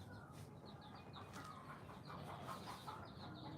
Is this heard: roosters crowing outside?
yes